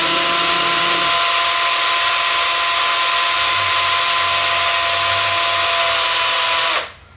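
A power drill whirs steadily at high speed for several seconds while winding thin nickel wire into a coil, a low hum shifting slightly partway through, then winds down and stops at the end.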